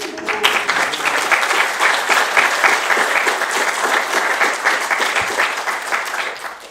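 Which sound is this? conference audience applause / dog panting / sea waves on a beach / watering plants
conference audience applause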